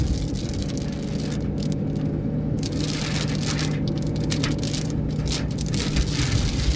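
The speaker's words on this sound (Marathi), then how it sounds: "बघू शकता की खूप पाऊस पुन्हा चालू झाला आहे" Steady, dense rain pours down with a constant broadband hiss and scattered sharper patters, continuous and loud throughout, no voices.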